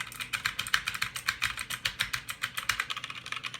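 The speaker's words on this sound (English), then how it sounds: "The browns sound much more like a regular rubber dome keyboard." Rapid, steady typing on a Magicforce 68-key mechanical keyboard with brown switches, soft muted keystrokes clicking in quick succession, close up and alone.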